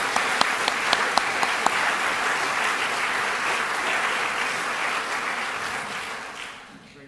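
An audience welcoming a professor onto a lecture stage breaks into sustained applause, dense and even, with a few sharp individual claps early on before it fades out at the end.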